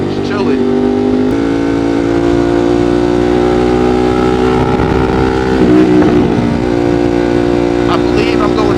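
Ducati Monster 1200 motorcycle held in second gear at around 64, its engine a loud steady drone with strong harmonics through the whole stretch, a brief surge near the middle, with wind rush over it.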